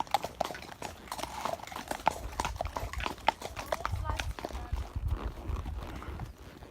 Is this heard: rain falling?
no